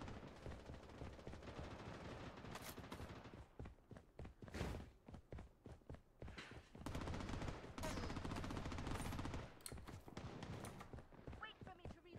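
Gunfire in the shooter Blood Strike: rapid bursts of shots and scattered single cracks alongside footsteps, recurring through the stretch while players talk over the action.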